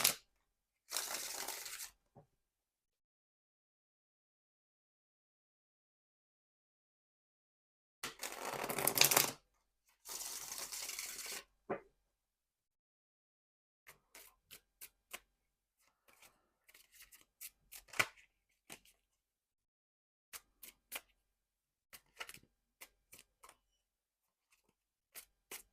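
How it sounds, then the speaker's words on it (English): Tarot-style clarification cards get shuffled in short crisp bursts, a few riffles and flutters at first, then scattered soft taps and card slaps in a quiet room. "I'm going to shuffle these clarification cards real quick"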